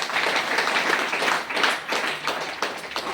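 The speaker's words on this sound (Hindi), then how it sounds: "सुमन भाभी के लिए जोरदार ताली करेंगे।" Audience clapping at a DXN gathering in Sultanpur, a steady broadband patter of many hands held at an even level throughout, with no talk over it.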